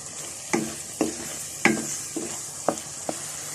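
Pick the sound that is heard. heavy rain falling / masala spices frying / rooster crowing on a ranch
masala spices frying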